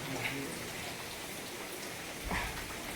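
Steady rain falls at an outdoor nature viewpoint, a continuous even hiss of drops with a couple of slightly louder splashes, heard faintly with no talking.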